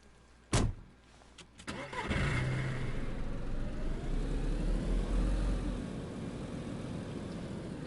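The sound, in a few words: car engine in the video game DayZ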